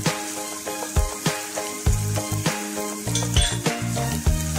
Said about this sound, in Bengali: তারপরে ভালোভাবে কষাতে থাকবো।